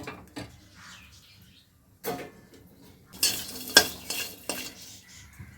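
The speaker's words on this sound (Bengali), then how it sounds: "রসুন কাঁচা লঙ্কা এটা আমি শুকনোই ভেজে নেব" Garlic and green chillies dry-fry in a pan for Bengali coriander-leaf paste, with scattered scraping and stirring clatter: a few isolated knocks early, then a denser run of sizzling, scraping strokes near the end. No voices.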